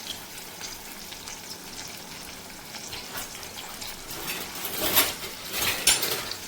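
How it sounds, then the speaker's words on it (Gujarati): Eggplant roasting over a low flame for Gujarati baingan bharta, a faint steady crackle and hiss with a few louder pops and scrapes toward the end. "આ રીતે આપણે ધીમા તાપે એને શેકાવા દેવાનું છે।"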